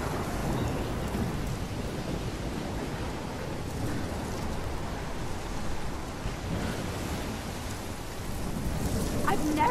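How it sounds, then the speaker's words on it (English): Heavy rain pours steadily through a thunderstorm in the video game Life is Strange, set in Oregon. The dense rain hiss stays loud and even for the whole stretch, with thunder rumbling low beneath it. "I've never seen a storm like this in Oregon."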